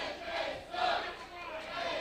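A wrestling crowd at NWA Wildside Christmas Chaos chants and roars against AJ Styles, a distant, swelling mass of voices filling the arena.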